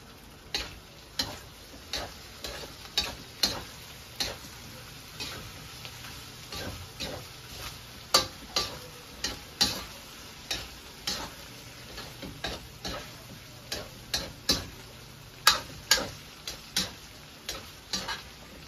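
Ground pork giniling is stirred in a pan on the stove, a soft frying hiss under a regular series of sharp spatula taps and scrapes, roughly one every second, close and steady with no talking.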